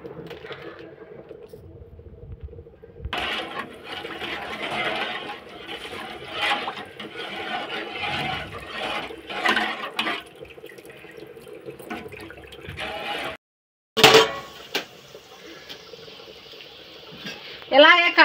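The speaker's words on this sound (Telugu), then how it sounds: "2 లోటన్నర నీళ్ళు పోసుకుంటున్నాను." Water is poured from a small vessel into a pot of rice, splashing and trickling in several bursts with brief pauses and a metallic clink, while a person speaks over it.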